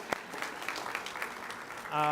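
Brief burst of audience applause at a county commission regular meeting, moderate and fairly distant, rising toward the end.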